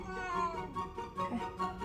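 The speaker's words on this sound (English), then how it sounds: "Do not start meowing." A male pet cat gives several short, plaintive meows in quick succession, close by and fairly quiet.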